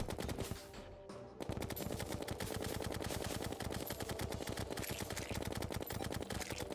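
Rapid, continuous gunfire from Terraria plays as a dense, loud stream of shots. A brief lull near the start breaks it before the steady rattling burst resumes.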